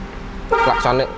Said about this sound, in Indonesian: Klaksonnya juga berfungsi dengan sempurna juga.